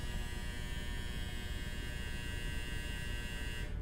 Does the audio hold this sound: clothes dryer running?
yes